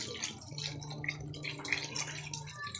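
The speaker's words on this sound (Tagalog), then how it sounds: "Lagyan mo natin tubig," Water splashes and trickles into a cooking pot at home, a soft uneven stream with small bright drips, fairly faint and close, with no speech over it.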